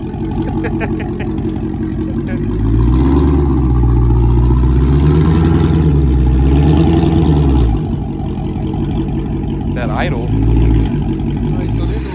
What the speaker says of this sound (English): At least my exhaust sounds good.